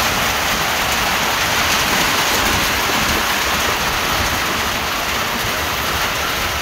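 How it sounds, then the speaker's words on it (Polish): A loud, unbroken roar of heavy rain pours down close by, dense and steady throughout, with no voices. "Jeszcze takiej ulewy jeszcze nie było."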